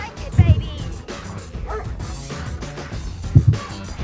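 Dogs barking in the real-time strategy game Command & Conquer: Red Alert 2, two short bursts of barks standing out over game music and effects while someone talks.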